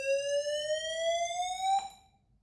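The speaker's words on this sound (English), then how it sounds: "if you heard that alarm, man, that actually stopped my heart for a second" A fire alarm sounds in a quiet room, a single steady rising electronic tone, clear and fairly close, stopping abruptly after about two seconds.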